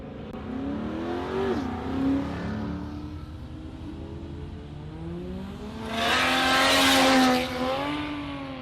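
A Volvo drag car with a V6 engine launches and accelerates down the Warwick Dragway strip, engine note rising and shifting through gears, loud and sustained with a surging peak near the end, no voices.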